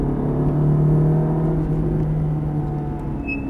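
A Ferrari F430 engine drones steadily while weaving through cones, a loud close hum that swells slightly then eases back to an even cruise.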